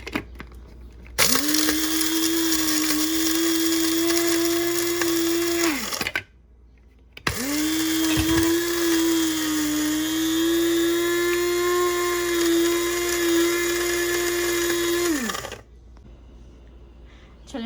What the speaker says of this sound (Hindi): चलें जी, अब करते हैं ग्राइंड।